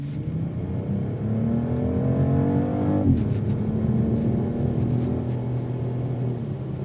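A 2026 BMW X3 M50 accelerates hard on a test drive, its engine rising steadily in pitch through the gears with a brief shift dip partway, loud and continuous over road rumble.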